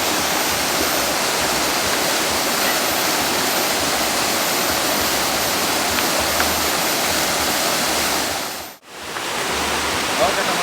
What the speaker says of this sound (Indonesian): curug, air terjun.